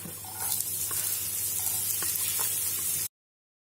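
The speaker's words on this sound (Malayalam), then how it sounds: "ഇപ്പൊ സവാള നല്ലതുപോലെ വഴണ്ട് ബ്രൗൺ കളർ ആയിട്ടുണ്ട് ഏകദേശം." Chopped onion sautéing in oil with garlic, heard as a steady, close sizzle with faint ticks and stirring scrapes that runs for about three seconds, then stops abruptly.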